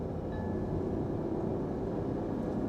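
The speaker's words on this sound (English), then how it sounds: "Keep listening to the engine." A 2021 Mahindra XUV300 petrol AMT engine at full throttle on a highway: a steady, loud drone with deep low rumble, holding constant throughout without any talking.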